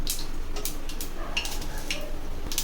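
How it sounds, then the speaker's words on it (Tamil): Mustard seeds dropped into hot oil for a mango pachadi tempering give a steady frying hiss with scattered sharp pops and crackles throughout, close and fairly loud, with no voices. "தேவையான அளவு எண்ணெய் ஊற்றிக்கிறோம். கடுகு போட்டுக்கிறோம்."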